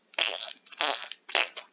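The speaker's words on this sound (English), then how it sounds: "That's the noise I make when I fart." Three short, wet, sputtering fart sound effects from a video game, evenly spaced and loud, each with a sharp onset and a brief trailing rasp.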